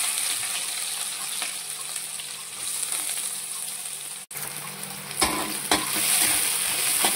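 Onion frying in hot oil with curry leaves and browned garlic for a Marathi potato stir-fry, a steady close sizzle throughout with a few sharper stirring scrapes near the end.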